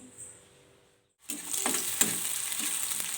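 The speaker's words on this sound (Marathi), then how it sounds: "कांदा छान तळून घेते मी" Near-silence gives way to a sudden loud hiss as onion hits hot oil in a pan, then a continuous close sizzle with faint scraping stirs, no speech.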